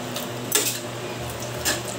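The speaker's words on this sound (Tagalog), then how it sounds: "Kunting halo lang." Pork belly hamonado being stirred in a pot, a couple of quick metallic clinks and scrapes of a utensil against the pot over a low background hum, without speech.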